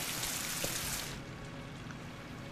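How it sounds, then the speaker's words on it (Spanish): Steady rain in the video game Rise of the Tomb Raider, in a London, England scene, makes a dense, loud hiss that drops to a softer, lighter patter after about a second. "pasamos de la tormenta a la lluvia"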